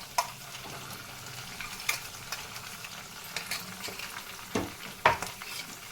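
Onion, tomato and green chili frying in oil in a clay pot, a soft steady sizzle with scattered stirring clinks and scrapes, fairly quiet and close, no voices.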